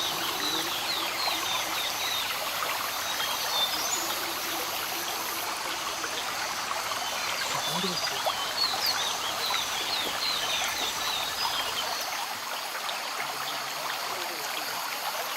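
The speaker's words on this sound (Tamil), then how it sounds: "தண்ணி சத்தம் கேட்குது." Stream water flowing steadily in a hill village near Ooty and Pandalur, a constant close wash of running water with faint bird calls over it.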